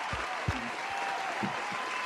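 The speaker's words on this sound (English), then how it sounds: "let me give you a well-deserved round of applause" Applause from a small group, a steady patter of clapping with a few louder, closer claps scattered through it.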